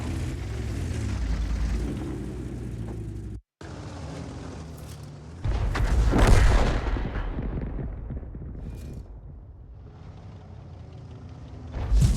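Bat.-Châtillon 155 artillery in a video game: a low rumbling background broken by one heavy, booming shot near the middle that trails off slowly, with no talking.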